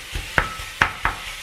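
Ground sausage and pork mix in a pan, broken up with a utensil: three sharp scraping taps stand out over a low, steady sizzle, close and moderately loud with no talking.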